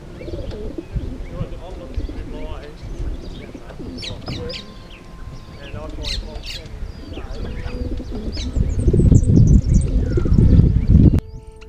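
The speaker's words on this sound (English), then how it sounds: "it was quite noticeable the noise from the trailer once the sun hit the birds" Racing pigeons packed in a transport trailer before release coo and flutter in a busy, continuous chorus that grows louder toward the end, with some background noise.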